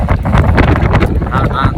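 Strong wind on a London street buffets the microphone with loud, gusty rumbling and roaring bursts that pulse irregularly throughout.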